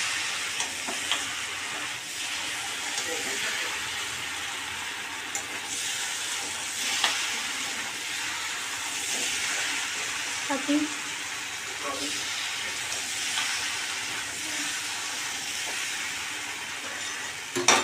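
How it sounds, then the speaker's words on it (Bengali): Soybean chunks and mixed vegetables for a panch mishali curry fry in a pan and are stirred, making a long, even, close hiss with occasional soft scrapes and small spits throughout. "সয়াবিনটা দেওয়ার পর এবার ভালো করে আর একবার আমি নাড়াচাড়া করব।"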